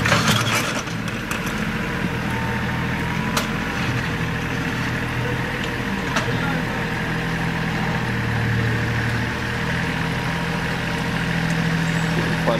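A tractor working stumps and logs at a cabin build site gives a steady, loud engine drone throughout, with a few faint knocks on top of it.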